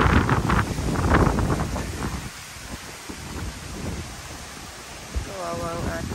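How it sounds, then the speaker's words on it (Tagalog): Strong wind gusting across rural farmland with banana plants, a loud broadband roar that rises and falls, blustery in the first seconds and easing a little later, with faint voices underneath. "ang lakas ng hangin"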